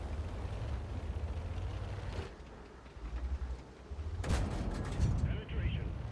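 Tank cannon shots from the World of Tanks game, with the Strv 74 firing at an enemy Persian tank: booming blasts and rumble over a continuous battle background, with a loud burst midway and a few smaller shots after.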